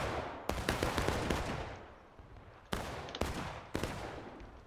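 Rifle fire crackling back and forth in a War of Rights public match on the South Woodlot map, with dense volleys and then several sharp separate cracks, loud and close, with no voices.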